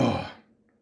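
A single burp erupts loudly and close up, a rough throaty blast lasting about a third of a second before dying away into near silence.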